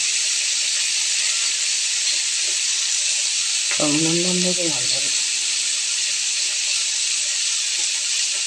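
Chooda fish heads frying in hot oil make a loud, steady hiss that fills the whole stretch, and a voice briefly breaks in partway through.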